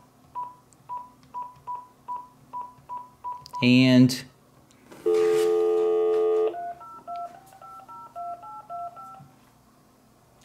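Phone keypad tones from a call placed to a cell phone through a Sony SRS-NB10 neckband speaker: a quick, evenly spaced run of beeps, then a louder burst of noise and a long tone, then a softer stepped melody.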